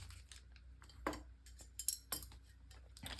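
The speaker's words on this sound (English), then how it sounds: "Just knocked over my scissors there." Scissors knocked over on a tabletop during a trading card pack opening, giving a few sharp metallic clacks and clinks, near and moderately loud, with no talk.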